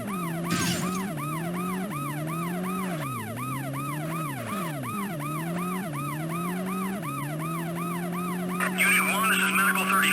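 Wailing ambulance siren from the PS1 game World's Scariest Police Chases, a loud, steady electronic wail that sweeps up and down continuously, with a brief burst of noise near the end.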